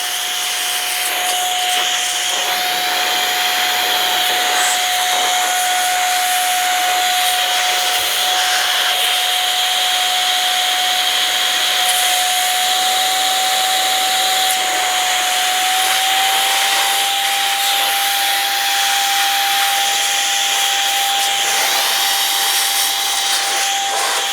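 An air blower runs steadily for the whole stretch, a loud continuous whine and hiss as dust is blown off a Silverstone Grandia 11 gaming PC case, with a slight pitch shift partway and no talking.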